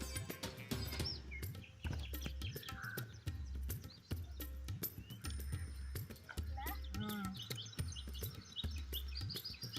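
Birds chirp and tweet in an open farm field alongside steady wind noise and occasional handling clatter, with people talking intermittently nearby.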